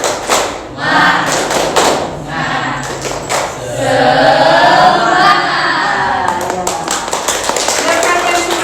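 An audience in a teacher-training session claps a rhythmic spirit clap, loud rapid bursts of hand claps at the start and again near the end, with someone speaking over the middle.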